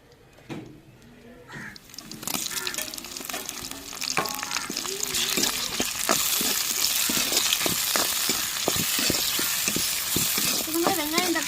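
Onion, garlic and tomato frying in oil in a pan: quiet at first, then a building sizzle with frequent crackles and stirring scrapes, growing louder and denser toward the end.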